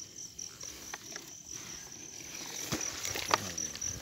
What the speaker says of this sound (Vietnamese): Nè, dế nó nằm ở đó, nó chạy ạ.